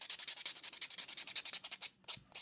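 An acrylic nail is sanded with a block, a rapid series of rhythmic, hissing strokes up close, about twenty passes broken by a short pause near the end.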